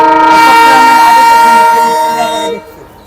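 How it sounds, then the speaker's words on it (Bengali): A train passes close by on another line, its loud, sustained horn blaring over the rumble of the cars before fading away. "ট্রেন আইতেছে ট্রেন আইতেছে ট্রেনটা থামান দেখি"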